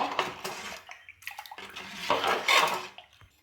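Onion vadagam batter is stirred in a pot, giving scraping, clinking spoon-on-metal strokes and wet sloshing in irregular bursts, close and moderately loud.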